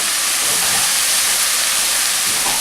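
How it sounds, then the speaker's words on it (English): Sherry poured into a hot pan of wild mushrooms gives a loud, dense, steady sizzling hiss that fills the whole moment without a break. "So now what I'll do is I'll add a good half a cup of sherry"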